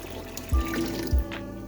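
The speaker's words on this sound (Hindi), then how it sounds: "अब हम इसमें पानी डालेंगे" Water streams steadily into a pot of masoor dal, a continuous splashing hiss broken by two dull low thumps.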